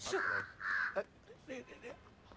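A crow caws a few times, harsh repeated calls spaced close together, fairly near, with quieter voices murmuring underneath.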